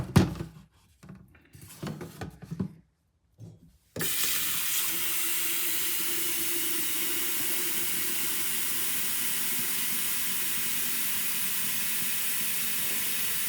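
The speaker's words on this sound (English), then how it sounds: "next you go to your kettle, and then you fill your kettle with water." A kettle fills with water from a kitchen tap, a brief clatter of handling followed by a steady, close rush of running water that continues for about nine seconds.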